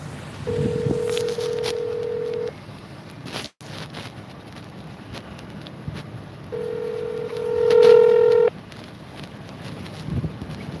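A phone plays a sustained steady tone, goes briefly quiet, then sounds another tone with a rising beep near its end, all over faint background hiss.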